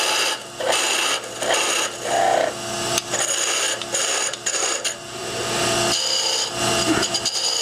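A parting tool cuts into wood spinning on a lathe, giving a steady close scraping and rasping with brief dips and surges as the cut goes on, and no talk over it.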